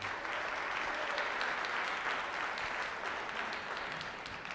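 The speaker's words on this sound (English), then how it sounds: "Give him a nice round of applause." Sustained applause from an audience at an elementary and high school band and chorus winter concert, a steady dense clapping that fills the whole span without fading.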